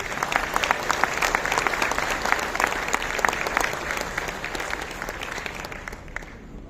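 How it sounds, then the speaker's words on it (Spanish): Steady audience applause at an architecture conference, a dense crowd of clapping hands sustained throughout and tapering slightly at the end. "del arquitecto Abraham Cota Paredes, que te pido un aplauso."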